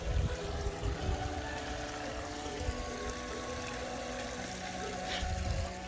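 Water trickles and splashes steadily down large boulders into a garden pond, a continuous close wash of running water with a low rumble beneath.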